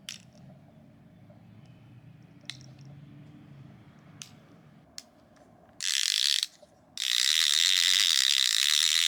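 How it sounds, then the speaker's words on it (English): Clicker on a Piscifun fishing reel, recessed and very loud, gives two dense bursts of rapid ratcheting clicks near the end after a few faint isolated ticks, close up and alone. "it has a really good clicker on there"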